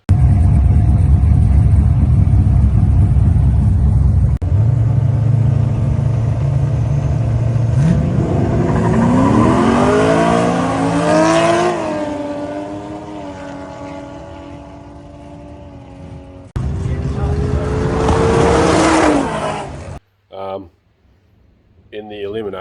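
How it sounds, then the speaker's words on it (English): A drag racing car running nitrous makes passes at an off-street drag event: a loud, continuous engine rumble with revs climbing and falling, a second surge near the end, then an abrupt cutoff. "some short vids of the car doing a couple of runs"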